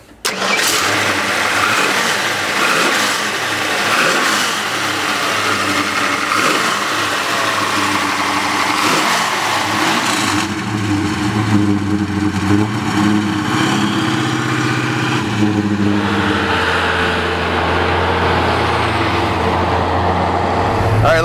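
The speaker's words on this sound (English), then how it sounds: "Let's take this good looking Mustang for a ride." A 1969 Ford Mustang Fastback with a five-speed starts up and revs hard, then settles into a throaty rumble that rises and falls as it drives, loud and close throughout.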